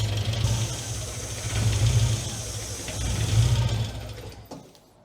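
A Classic Mini engine idling roughly, a low uneven rumble that swells and sags in slow surges with a faint ticking, fading out at the end.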